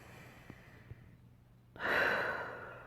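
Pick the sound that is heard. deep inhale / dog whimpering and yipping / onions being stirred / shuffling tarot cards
deep inhale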